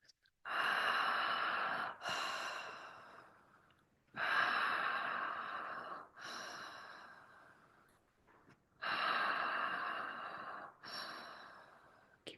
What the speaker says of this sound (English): start breathing through your mouth into your heart, out of your mouth.